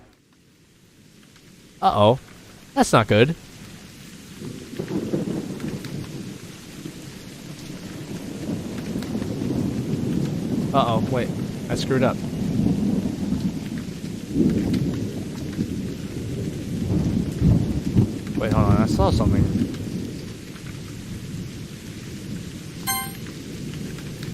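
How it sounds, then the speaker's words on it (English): Heavy rain pours with rolling thunder in Doki Doki Summertime, a storm building from quiet into a loud, continuous downpour with rumbling swells, while a person speaks in brief nervous bursts over it. "Within a minute, it wasn't just raining, it was storming."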